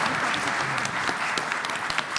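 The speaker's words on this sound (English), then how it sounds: "that's a round of applause for sure." A round of applause from the audience at a national quiz championship final, a full and even clatter of clapping from a crowd lasting a couple of seconds.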